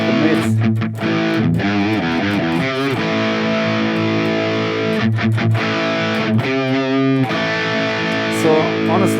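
Distorted electric guitar from a Harley Benton Fusion 3 HH FR through a MESA amp model on a Valeton GP-200, mids pushed for saturation; sustained saturated chords and riffs, loud and continuous with no talking.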